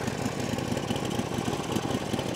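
A Harley-Davidson motorcycle engine idles close by, a continuous low, rumbling throb with an even, lumpy pulse and steady loudness, running alone without speech.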